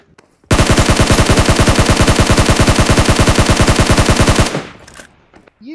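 Gunfire in an online video game: one long, loud, rapid automatic burst of even shots lasting about four seconds, then a short fading tail.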